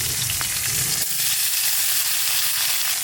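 Shrimp dropped into a hot pan of oil with bay leaves, cumin and green chilies: a loud, steady frying sizzle with a brief burst near the start, with no talking.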